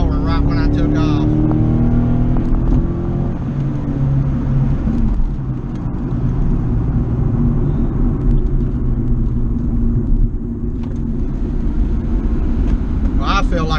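An automatic C5 Corvette launches down a 1/8 mile dragstrip with traction control left on. A loud, close engine roar and heavy low rumble carry through the whole stretch, with pitch shifts early on.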